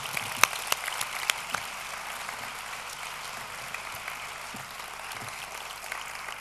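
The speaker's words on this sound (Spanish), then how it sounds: "a Cristóbal le damos un aplauso" Audience clapping at a women's flamenco festival, a steady wash of applause with a few sharper claps standing out early on, held at an even level throughout with no speech over it.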